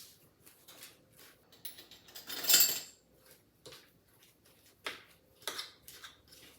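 Chocolate chip cookie dough being spread in a pan, heard as soft intermittent scraping and tapping of a utensil against the metal pan, with one louder scrape midway, close and quiet.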